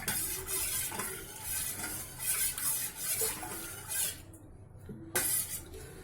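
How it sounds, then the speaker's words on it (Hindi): Curd is stirred into water in a kitchen vessel with a utensil, giving a run of wet swishing and light scraping strokes close by with an uneven rhythm, heard without talk. "दही को ऐसे पानी में मिक्स कर देंगे।"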